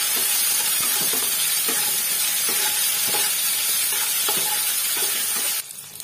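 Chopped tomatoes frying with vegetables in a pan for a curry, a steady close sizzle and hiss with occasional stirring scrapes, running continuously before dropping away near the end.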